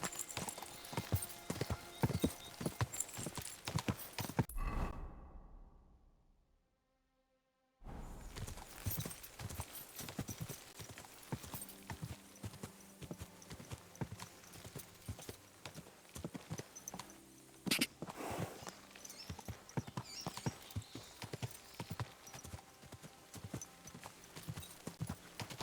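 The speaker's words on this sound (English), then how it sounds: "It is nice to have a horse again." Horse hooves clip-clop in a steady, rhythmic gait in Kingdom Come: Deliverance II, fairly close and continuous apart from a few seconds of silence near the start.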